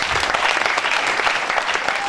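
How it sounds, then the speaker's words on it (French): Wedding guests applaud the witness couple at a marriage ceremony, a brisk, dense burst of many hands clapping together, close and even throughout with no voices standing out. "qu'on applaudisse pour le couple témoin"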